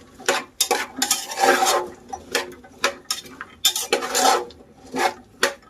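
Repeated scraping and stirring of onion, garlic paste and vegetables in a pan for pav bhaji, bursts of rasping metal strokes in an uneven rhythm, close and fairly loud, with no talking.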